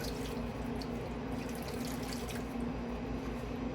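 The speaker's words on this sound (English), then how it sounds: "Meanwhile, I wash my glove" Tap water runs steadily into a sink while a glove is rinsed under it, a constant close splashing stream with small drips and no talking.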